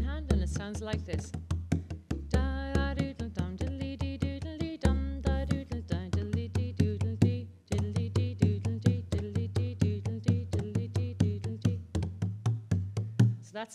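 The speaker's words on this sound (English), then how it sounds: "Now put it in with the skin hand, and it sounds like this." A bodhrán frame drum is struck in a steady rhythmic pattern while the skin hand presses on the drumhead, giving dense deep thumps in a driving pulse at moderate loudness, close up with no talking.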